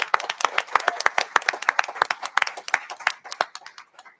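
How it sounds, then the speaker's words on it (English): Applause for teachers at a school board meeting: a room of people claps in a dense burst of sharp hand claps that thins out and fades toward the end. "How about a round of applause for our teachers?"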